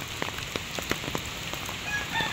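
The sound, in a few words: heavy rain falling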